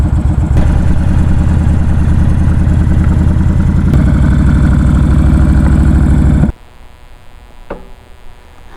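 A 2012 Honda Fury 1300 motorcycle idles with a loud, steady, throbbing low rumble, close by, for about six and a half seconds before cutting off abruptly into near silence.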